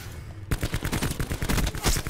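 Rapid gunfire in Call of Duty: Black Ops 4 multiplayer, a dense burst of automatic shots starting abruptly after a brief quiet moment, loud and close, with no talking over it.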